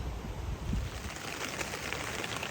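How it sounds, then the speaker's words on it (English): Rain falls on tents at a camp on the John Muir Trail, a soft, steady patter and hiss with no voices. "And here comes the rain, right on cue."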